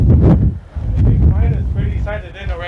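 Strong, cold high wind buffets the microphone at an outdoor shooting range with loud, gusty rumbling, while people talk through it.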